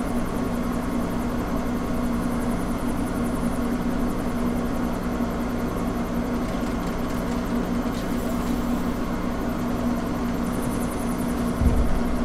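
Video game helicopter in GTA IV with a steady, droning rotor and engine hum that runs continuously throughout, loud and close, with a brief low thump near the end.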